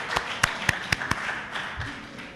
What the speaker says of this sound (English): I ask you again to applaud Dr. Gordon for that very interesting presentation